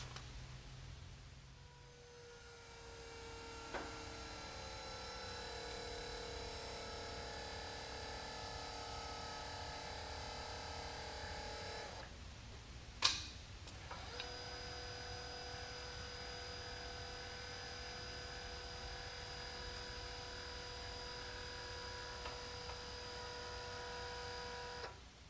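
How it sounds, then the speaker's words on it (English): A motor drives a cam that lifts and lowers the rollers on a finishing machine, a steady mechanical hum with a short clunk partway through, close and continuous throughout. "this motor operates a cam that will lift and lower the rollers by means of this arm here"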